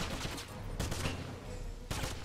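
Wolfenstein battle gunfire at a railway station: sustained rattling shots with two sharp, loud bursts standing out against a steady rumbling din of combat.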